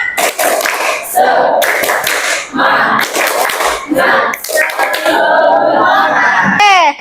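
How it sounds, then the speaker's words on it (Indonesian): A classroom of children doing a rhythmic spirit clap during a science lesson, loud patterned bursts of hand clapping mixed with chanting voices close by. "Tepuk semangat."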